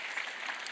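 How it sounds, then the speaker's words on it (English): An audience claps briefly, a short faint burst of applause in a hall during a talk. "so give them a round of applause, all right?"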